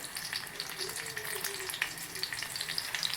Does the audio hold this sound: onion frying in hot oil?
yes